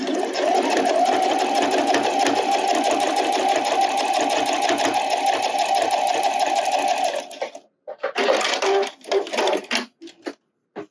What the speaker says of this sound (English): there's the edge stitching